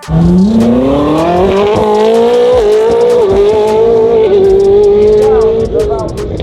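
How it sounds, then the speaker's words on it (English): A Porsche GT3 sports car flat out on an airstrip, its engine note climbing loud and steady through the gears with sharp shifts, close and continuous throughout. "We're on an airstrip where we can push these cars to like 200 miles an hour."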